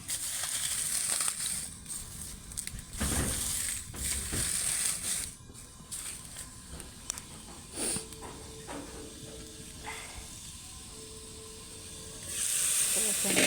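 Cooking on a clay stove in a village home, with a steady hiss and crackle, crinkling and crushing textures, and scattered clatter close by, under a person speaking at intervals.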